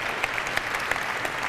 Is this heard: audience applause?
yes